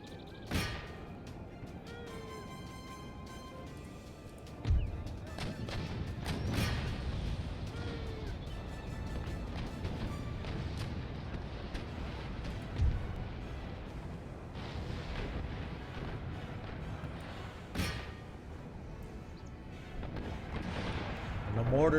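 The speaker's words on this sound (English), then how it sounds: "The mortars and cannons from their walls are firing, oh, you name it, it's firing big time." Cannons and mortars in Empire Total War fire repeatedly from fortress walls during a siege, heavy booming blasts scattered over about twenty seconds amid constant battle rumble, with someone talking over them.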